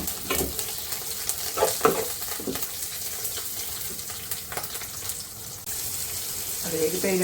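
Tomato goes into a hot frying pan, bringing a close sizzle with scattered scrapes and knocks, and a splash of running water near the end.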